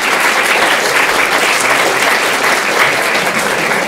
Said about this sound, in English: give them a big welcome, a big round of applause